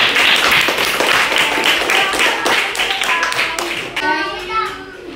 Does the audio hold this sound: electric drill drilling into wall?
no